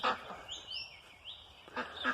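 Ducks call out on a farm with a few short, nasal quacks and honks spread across a couple of seconds, moderately distant and fairly quiet against a calm background.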